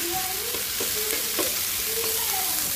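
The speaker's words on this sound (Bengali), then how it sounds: "তো আমি তাওয়ার মধ্যে তেল দিয়ে চিংড়ি মাছটা ভালো করে পুরো ভেজে শাকের মধ্যে দিয়ে দিলাম।" Shrimp frying in oil on a flat tawa, a steady close sizzle broken by a few scraping stirs of a spatula, with no voices.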